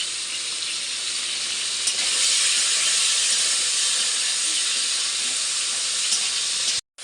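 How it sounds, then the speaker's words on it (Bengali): Tomato, ginger and green chilli masala frying in oil, a steady loud sizzle with bright hiss holding evenly for about seven seconds before cutting out abruptly near the end. "এখন দেখো এখানে মশলাটা কষানো হচ্ছে"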